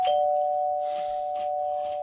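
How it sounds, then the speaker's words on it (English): A doorbell chime with a newly set tone sounds loud and close: one sustained, steady bell note rings on for about two seconds while softer tonal hits come and go over it, and no one speaks. "Oh, those organs and doorbells. This new tone."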